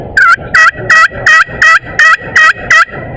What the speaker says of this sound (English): here's a basic yelp